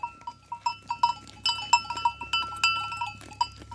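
A flock of sheep grazes in a field at sunrise, with repeated clear bleats and baa calls, some near and some farther off, over a quiet background with a faint low hum.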